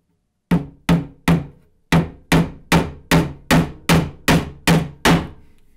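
Eleven sharp, loud blows from a RAK hammer strike nails in a steady rhythm, each ringing briefly before the next hit, with no talking.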